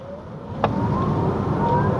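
A Hyundai Ioniq 6 electric car accelerates on a public road during a test drive, its rising electric-motor whine and road noise steady and close inside the cabin, with no voices.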